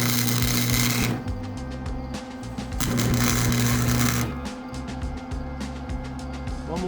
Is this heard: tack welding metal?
yes